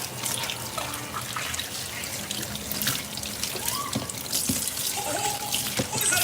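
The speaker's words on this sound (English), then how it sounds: "And then I wash them." Leaves are washed under running tap water, with a steady stream hissing into a sink and small splashes and drips as the leaves are handled, constant and close throughout.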